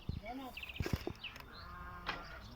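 Merino-type sacrificial sheep bleat at a livestock farm, with several short, wavering calls close by in the first half and a fainter one later, while someone speaks over the animals.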